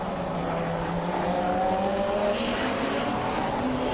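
A GT3 race car slides through a braking zone on a circuit in Portugal, its engine roaring loudly and steadily throughout, with a rising whine and a faint tyre squeal under the constant noise.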